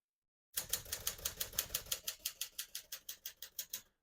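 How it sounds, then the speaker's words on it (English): Typing on a 1951 Smith-Corona Silent portable typewriter: a quick, even run of about twenty crisp key strikes at close range, each a sharp clack, with no talking. "As you can see, all the keys type nice and none of them skip or stick."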